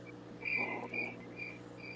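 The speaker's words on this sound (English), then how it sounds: "Crickets. Oh, I hear crickets." Faint, high chirping of insects, a few short trills repeating close together against a quiet background.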